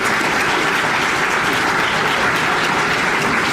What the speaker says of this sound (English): Big round of applause for the chamber staff here.